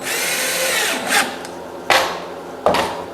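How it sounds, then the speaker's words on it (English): A power drill drives deck screws through trim into marine plywood, with a long whirring run followed by two short, sharp bursts as each screw seats, close and loud with no talking. "I'm going to attach this, all this trim with just deck screws,"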